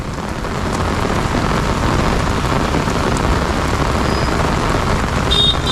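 A steady downpour of heavy storm rain in Thane hisses loudly and evenly throughout, close and constant, with no talking.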